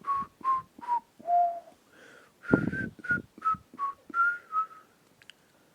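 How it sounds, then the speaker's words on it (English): A man whistles a short tune to himself, a string of clear, bright notes in quick phrases with brief gaps, close and alone. "I was whistling to myself."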